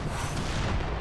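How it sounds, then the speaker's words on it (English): Howitzer artillery barrage in the Company of Heroes 2 winter battle, a dense, loud rumble of booming shell impacts rolling together without pause. "Another good barrage."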